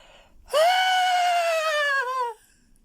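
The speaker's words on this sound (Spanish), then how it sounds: "Un grito de espanto suspendió la misión." A long, loud scream of fright used as a sound effect in a ghost story set in a convent school, one sustained, strained tonal cry lasting nearly two seconds that ends abruptly.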